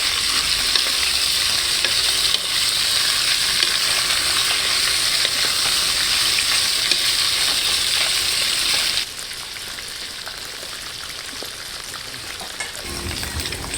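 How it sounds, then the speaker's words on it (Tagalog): Pork frying in oil in a pan for spicy humba, a loud steady sizzle that carries on continuously, then drops to a softer, quieter crackle partway through, with no talking. "prito na baboy."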